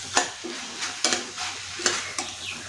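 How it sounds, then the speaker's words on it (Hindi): A spoon scrapes and stirs paneer bhurji with fresh green coriander in a frying pan, giving a few sharp scraping strokes over a low, steady sizzle at close range with no talking. "हरा धनिया अच्छे से मिक्स कर लेंगे।"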